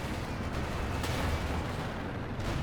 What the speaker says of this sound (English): Artillery or something hit.